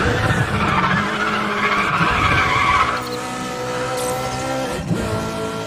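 Tires screech as a car skids through a street race in Need for Speed The Run, a loud, continuous squeal over a roaring engine that holds for several seconds.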